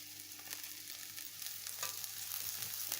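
Beetroot stalks frying in a pan, a steady close sizzle with crackling spits and occasional stirring scrapes, growing slightly louder, no voices.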